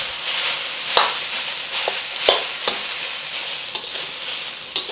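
Rice sizzles steadily in a hot pan with onions, with sharp scrapes and clicks of a utensil stirring it every second or so while cooking Japanese fried rice.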